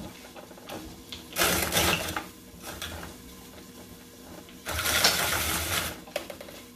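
A Saladmaster vegetable cutter machine cuts vegetables in a kitchen. Two loud bursts of mechanical whirring and grinding come up close, with quieter handling clatter between them.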